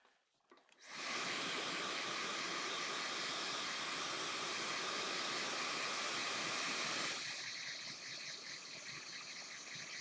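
A blow dryer switches on and blasts a loud, steady hiss close by while drying paint on a portrait, then drops to a slightly lower setting for the last few seconds.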